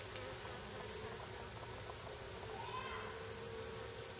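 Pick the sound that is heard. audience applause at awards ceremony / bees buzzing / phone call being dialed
bees buzzing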